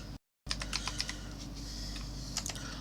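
Keys tapped on a computer keyboard while filling in contact, email and country fields in an Excel VBA data entry form, a quick run of clicks after a short gap, then scattered taps over a steady low hum.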